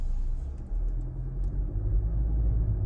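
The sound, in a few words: Honda Accord car driving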